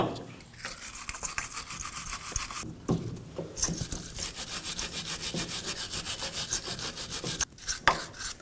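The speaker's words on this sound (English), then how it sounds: "I'm going to go ahead and use a wire brush." Wire brush scrubbing debris off the wheel hub area of a 2017-2024 Nissan Armada, fast rhythmic rasping strokes close up and fairly loud, broken by a few short pauses.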